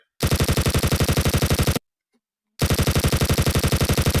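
Rapid machine gun fire in a video game comes in two long, loud bursts of evenly spaced shots, split by almost a second of silence, with no voices.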